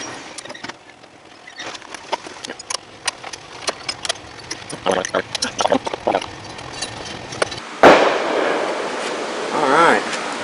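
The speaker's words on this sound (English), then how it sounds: "Looks like they're blowing off fireworks just as I cut the camera on." Fireworks pop and crack outside in a scattered series of sharp bangs near a 1994 MTD Vari Drive yard tractor, followed by a louder burst and a rumbling, hissing stretch near the end.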